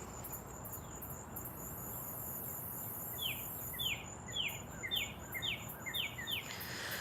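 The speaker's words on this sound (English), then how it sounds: "You're definitely hearing those birds." Birds singing outdoors in a garden, a series of short bright repeated chirps in a steady rhythm over constant insect buzzing and faint background hiss, fairly quiet and somewhat distant.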